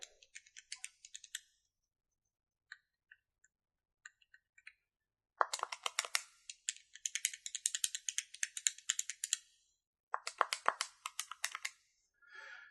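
Buttons on a bootleg NES Classic controller clicking in quick bursts of sharp, close, crisp taps, with sparse single presses between denser rapid runs; no talk.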